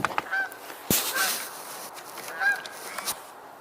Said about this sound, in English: And a Canada goose just flew that away, I think. I hear more coming in,